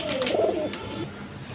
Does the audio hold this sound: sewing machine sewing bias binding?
no